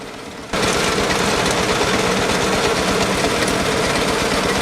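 A hammer mill engine grinding cassava into meal in a rural village kicks in after a brief lower rumble, then roars loud and constant with a rapid pulsing rattle.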